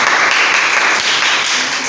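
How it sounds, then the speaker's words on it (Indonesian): Loud, dense applause from a school class during a quiz, steady clapping filling the whole stretch without a break. "Tepuk tangan."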